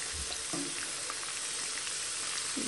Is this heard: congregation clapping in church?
no